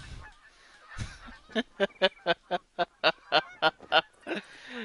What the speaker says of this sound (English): here come the goddamn geese. Flying right over.